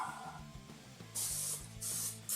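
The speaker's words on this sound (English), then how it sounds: "I'm going to spray it with some cooking spray." Three short hissing bursts of cooking spray into a 7x11 baking dish, each lasting a fraction of a second, close by, over a low steady hum.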